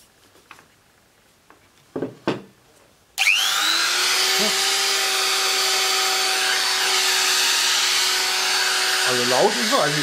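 A cheap edge router costing under 30 euros switches on after a few handling knocks and runs with a loud, steady, high motor whine that holds unbroken to the end, nearby and with no voices.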